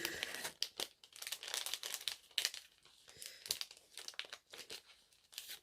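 A plastic-wrapped pack of stamps is opened up close, giving soft, quiet crinkling and tearing bursts in irregular spurts, with no speech.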